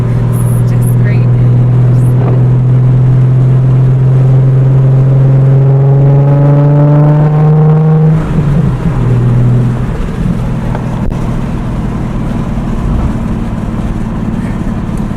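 A Nissan 350Z with a VQ engine and a Tomei titanium exhaust revs up in a loud, rising howl, then drops off into a deep, rumbling idle with a sharp crackle, heard up close while people talk nearby.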